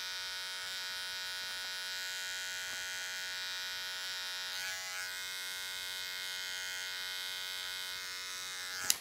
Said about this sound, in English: If your clipper seems a little loud, which mine does